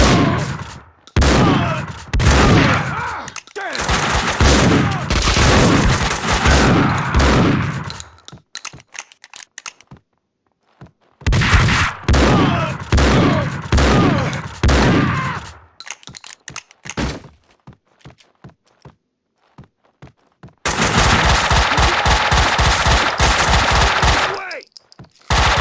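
Video game gunfire from Max Payne 2 comes in long, dense bursts of rapid shots, separated by short gaps with isolated single cracks and clicks, and ends in a final sustained volley.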